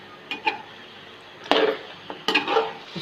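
Chicken frying in a karahi for a Cholistani chicken karahi, giving a steady sizzle with several scraping stirs and metal clinks from a spoon against the pan, no talking.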